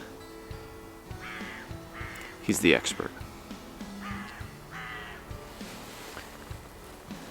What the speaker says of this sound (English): the birds yell at you just like they do back at home